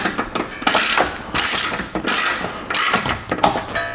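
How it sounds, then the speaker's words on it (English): Ratchet wrench with a 10mm socket turning a bolt on a Chrysler 200 engine, loud close clicking in five repeated bursts of rapid pawl ratcheting with short pauses between strokes, no talking. "You need a 10mm socket and remove that bolt."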